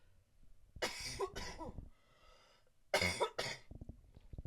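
Two bursts of harsh coughing, each a pair of quick barks, separated by a pause, close to the microphone with faint background noise.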